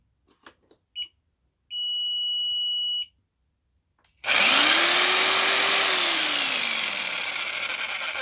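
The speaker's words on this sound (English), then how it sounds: "Plenty of juice to run a drill." A few faint clicks and a high electronic alarm tone from an APC ES 750 battery backup, then a drill powered by it whirs loudly, spinning up and winding down, alone and close.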